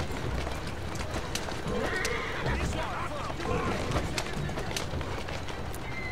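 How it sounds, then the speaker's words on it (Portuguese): A mare whinnies amid galloping hoofbeats and busy game-world noise in Assassin's Creed: Syndicate, with a steady dense background throughout. "Chicoteando a coitada da égua."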